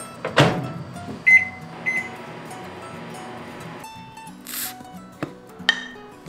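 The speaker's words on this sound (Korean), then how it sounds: "이렇게 얼려둔 냉동밥도 전자레인지에 돌려만 주면" A microwave oven reheats frozen rice in a heat-resistant glass container with a steam valve lid: a door clunk and handling clatter, a steady running hum, then beeps and clicks as the cycle ends and the door opens.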